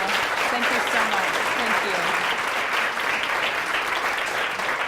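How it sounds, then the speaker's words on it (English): An audience applauds panel speakers at a Women Grow NYC event, steady dense clapping throughout, with a voice speaking faintly underneath. "give the ladies a round of applause."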